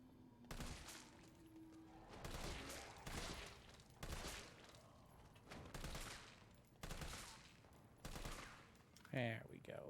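Repeated gunshots in Resident Evil 3 Remake, set in Raccoon City, come as about six heavy bursts at a steady pace, loud and close, with a brief voice near the end.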